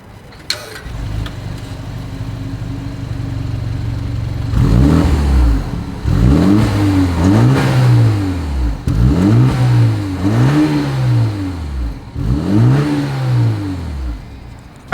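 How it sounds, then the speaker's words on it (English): A 2025 BMW 330i in Sport Plus mode idles, then its exhaust barks through five sharp revs in a row, each rising and falling quickly, loud and close. "in Sport Plus driving mode, here is that exhaust clip"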